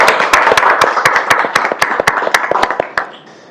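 Round of applause at a North Perth council meeting, a small group clapping in sharp, distinct claps at close range that stop after about three seconds.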